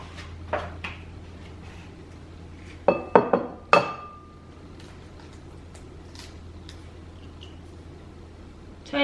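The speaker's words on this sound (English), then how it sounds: "never get me to crack eggs" Eggs cracked into a bowl while baking at home, a quick cluster of close, sharp taps and clinks, then a single crack and quiet kitchen noise over a low hum.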